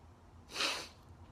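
A single short, soft sneeze bursts out once, fairly faint, with a quiet room before and after.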